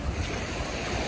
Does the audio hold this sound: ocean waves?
yes